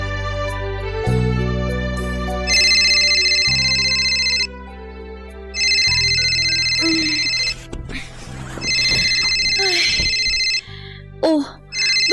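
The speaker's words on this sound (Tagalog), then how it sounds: "Nang isang araw ay tinawagan ako ni Mama" A telephone rings with an incoming call: three long bursts of a bright electronic ringtone, loud and close, separated by short pauses, over soft background music.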